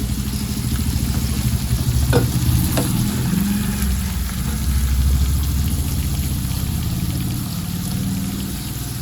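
Mutton fry sizzles steadily in a pan, a continuous close frying hiss with faint stirring scrapes, with a low background rumble during a Sankranti family gathering.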